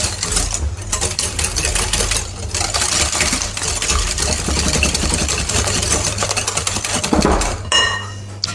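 An electric mixer whirs steadily as it beats two eggs with 100 g of sugar for a pear cake, its motor hum continuous with clinks against the bowl and a brief change in pitch toward the end.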